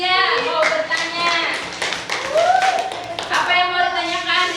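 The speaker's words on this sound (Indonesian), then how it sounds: "tepuk tangan buat Rizia mau bertanya" Children in a classroom clap together in a short burst for a classmate, the claps loud and close, while a teacher and children talk over them.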